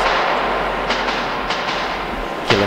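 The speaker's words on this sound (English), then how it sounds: "I think I was too close to the train" Ghost train in a Metro 2033 game tunnel roars past very close, a steady loud rumble with repeated rhythmic clacks and a sharp burst near the end, no talk over it.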